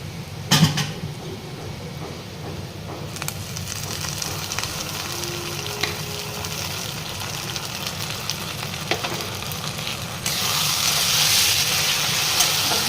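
Steady sizzling and hissing of ginger garlic paste frying in hot oil throughout, growing louder and brighter near the end, with faint stirring scrapes.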